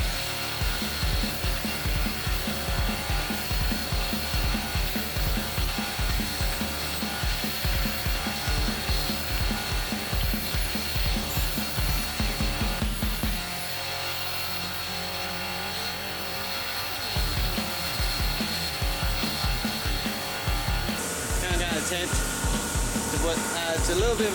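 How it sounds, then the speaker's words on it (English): Wire brush scrubbing a freshly forged and tempered hawksbill karambit blade, a loud continuous rhythmic rasping, likely powered, with a brief change in tone midway and then resuming. "I'm just going to hit it with a wire brush just to give it some bit of a clean up"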